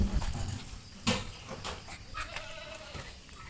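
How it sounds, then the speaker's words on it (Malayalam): Farm animals on a homestead call out in a few short bleating, lowing cries over a busy background, with scattered knocks and clatters and no talking. "അപ്പോൾ അമറൽ തുടങ്ങി."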